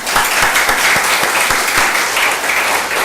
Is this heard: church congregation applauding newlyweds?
yes